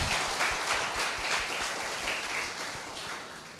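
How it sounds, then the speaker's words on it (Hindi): A church congregation claps together in a steady, dense wash of applause that holds evenly throughout, filling the room without any voices on top. "या ताली बजा सकते हैं आप"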